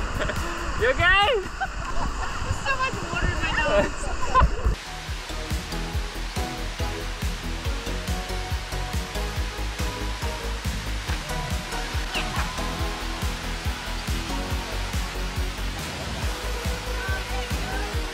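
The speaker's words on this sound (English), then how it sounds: "This waterfall has been so much fun." Rushing water from a waterfall on a tour near Paraty, Brazil, a loud, continuous roar that drops slightly in level after a few seconds, with voices faintly mixed in.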